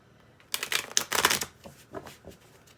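Tarot cards are shuffled in a quick burst of close, crisp riffling and flicking, then a few softer taps as the deck settles, with no talk.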